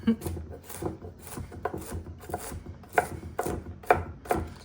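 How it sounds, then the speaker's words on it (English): A knife rough-chopping toasted pecans on a cutting board, a run of uneven, close, crisp chops and scrapes about a dozen times, with faint speech in the background. "Pecans are toasted, so we'll just give them a rough chop."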